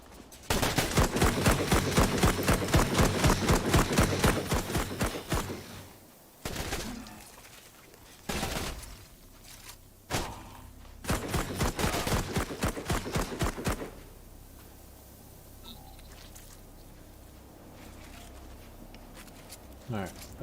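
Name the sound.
robot shooting at the player in the video game Memories of Mars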